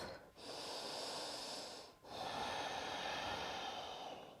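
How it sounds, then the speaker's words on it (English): Ujjayi yoga breathing drawn in and out through the nose, a soft, steady, hissing rush of air with a brief pause between two long, close breaths. "make sure you are making that sound from the back of your neck, inviting your Ujjayi breath"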